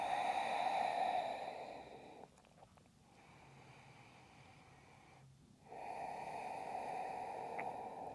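Slow, deep breathing during a seated yoga forward fold, a soft airy inhale and exhale heard close and faint, with a quieter lull between breaths.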